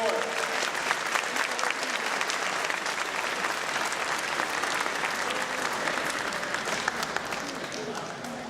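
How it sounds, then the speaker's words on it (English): Sustained audience applause fills a school awards ceremony for the K-4 students, a dense, steady wash of clapping from a large crowd that holds at an even level throughout. "Big round of applause, K-4"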